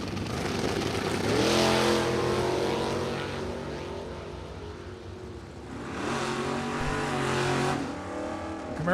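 Drag racing launch at a bracket event as a 1980 Camaro and a 1974 Duster leave the line, two loud engine roars rising and fading, with a second surge of revving cars near the end.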